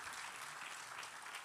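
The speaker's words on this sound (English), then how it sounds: "A hand clap to God." A church congregation claps their hands together during a sermon, steady continuous clapping at low volume throughout.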